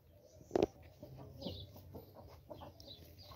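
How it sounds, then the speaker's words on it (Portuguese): A backyard rooster gives a single sharp, close call, then low, soft clucking and rustling continues faintly in the background. "tá lindo esse galo"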